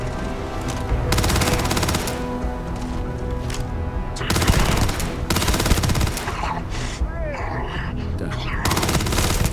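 Rapid automatic weapon fire in the sci-fi game Starfield, long sustained bursts of loud gunshots broken by brief pauses, close and heavy, with a voice speaking briefly over the shooting.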